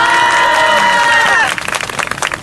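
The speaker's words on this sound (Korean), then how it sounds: "큰 박수 부탁드립니다" Crowd applause at an outdoor student press conference, a burst of clapping and cheering rising after a sustained tone, loud and close, spread across the group.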